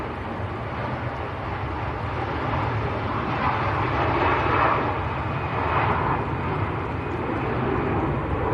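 An Airbus A330 airliner at Manchester Airport in wet weather gives a steady, broad engine roar that swells slightly midway, heard alone without voices.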